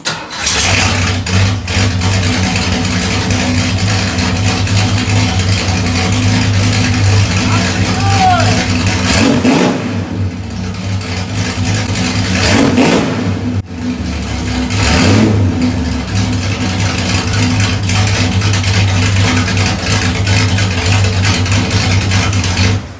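A junkyard car with a new exhaust cranks, catches and settles into a rough idle, then revs up loudly several times with a deep, throaty exhaust roar.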